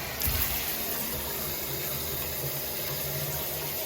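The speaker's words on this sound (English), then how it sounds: "Turn on the shower." A shower running at half hot, half cold after rust was cleared to fix a pulsating flow, giving a loud, even, continuous spray of water close by from start to finish.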